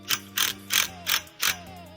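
A ratcheting wrench tightens bolts while a stand is being assembled, making five quick evenly spaced clicking bursts close up, with nothing else in between.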